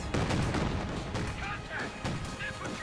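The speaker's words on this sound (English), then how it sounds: "Panzer Warfare's barrage does roll a decent hit" Artillery barrage in the Company of Heroes 2 strategy game: a run of heavy booming impacts and rolling blasts, loud and dense, with a commentator talking over the explosions.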